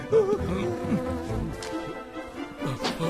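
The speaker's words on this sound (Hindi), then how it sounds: "मधुमक्खी! भगाओ उसे! भगाओ!" A bee drones nearby with a low, wavering buzz that rises and falls continuously for a few seconds.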